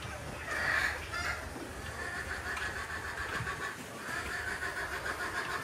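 A hen rests with her newly hatched chicks, giving soft clucks and faint peeping over a steady, noisy background, fairly quiet and close.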